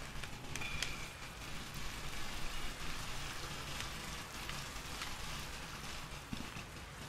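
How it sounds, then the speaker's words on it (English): Rain falls steadily in the video game Rain World, a continuous soft patter of drops on surfaces with scattered louder taps. "I'm a very sleepy slug cat, and the rain makes me so nervous."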